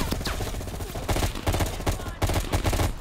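Sustained gunfire in the Call of Duty: Cold War campaign: repeated close bursts of automatic weapons and overlapping shots from several directions, loud and continuous with brief pauses.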